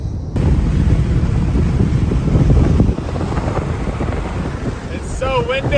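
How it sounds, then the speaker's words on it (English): Strong wind roars and buffets the microphone outdoors as a steady, loud rush with low rumbling gusts. It eases slightly after about 3 seconds, and faint chirpy sounds come near the end. "It's so windy."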